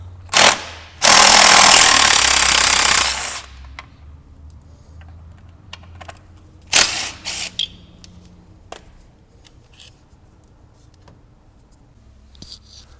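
A power tool spins 10mm bolts out of an intercooler bracket on a 2016-2021 Honda Civic, with a loud buzzing burst of about two seconds, then shorter whirs. Quiet clicks and clanks of tools fill the gaps.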